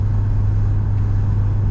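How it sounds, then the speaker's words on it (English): A 2017 INFINITI Q60 Red Sport with a 3-liter twin-turbo V6 and performance exhaust drones at a steady low pitch while driving, heard as an even cabin rumble with no talking. "you could tell with the exhaust in the upper RPMs it's a little bit quieter than at normal RPMs"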